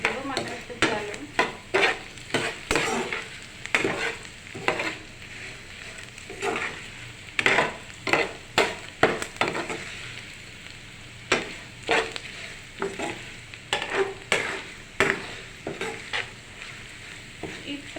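Food fries in a pan with a little turmeric, a steady sizzle underneath repeated scraping strokes of a stirring utensil, close and rhythmic throughout.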